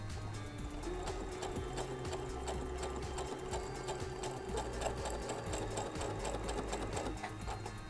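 Sewing machine running steadily in straight stitch with a braiding foot and monofilament thread, a continuous close mechanical whir with rapid even needle ticking, no voices.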